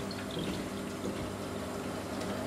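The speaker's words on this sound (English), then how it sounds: "I'll add 4 cups of water exactly." Water steadily poured into a pot of dal in a home kitchen, four cups measured in one go, giving a continuous close splashing fill sound with no talk.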